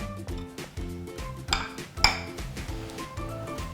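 Butter being worked into chopped basil in a bowl, a utensil scraping and clinking against the dish in a steady rhythm with a couple of sharper knocks, close and moderately loud over faint background music.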